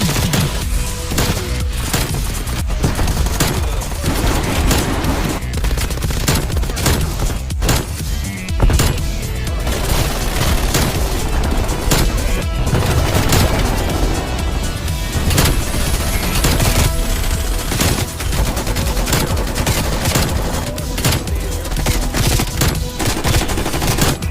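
Rapid, relentless gunfire from a run of DLC weapons in Call of Duty: Black Ops Cold War, with dense automatic bursts and single shots packed back to back at close range for the whole stretch, loud and unbroken.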